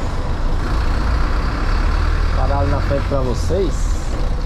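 A city bus slows to a stop with a steady low engine rumble filling the cabin, someone talking over it and a faint airy hiss near the end.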